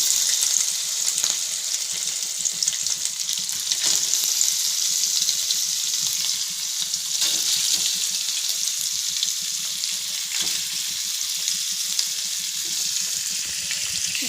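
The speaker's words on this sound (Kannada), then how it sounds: "ಪನ್ನೀರ್ ಫ್ರೈ ಮಾಡ್ಕೊಳಕ್ಕೆ ಇಟ್ಕೊಂಡಿದ್ದೀನಿ" Paneer pieces frying in a pan, a loud, continuous hissing sizzle close up, with occasional crackling bursts and no voices over it.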